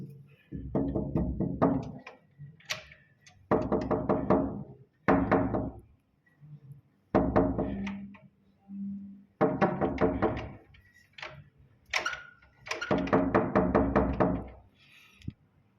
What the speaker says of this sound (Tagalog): So yun kumakatok tayo.